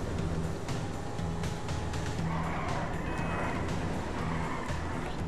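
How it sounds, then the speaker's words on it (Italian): A car brakes hard and skids in GTA 5, a loud tire squeal and scraping slide over roaring engine noise, close and continuous for several seconds with no talking. "Frenata e sgommata per schivarlo."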